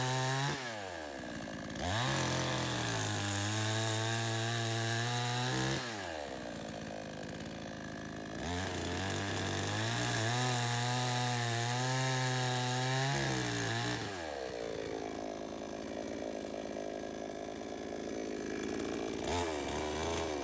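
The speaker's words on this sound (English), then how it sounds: "I just take the saw and plunge down in the center of the stump" A chainsaw plunge-cuts down into the centre of a tree stump, its engine revving hard through two long cutting passes with brief idling dips between, loud and close with no voices.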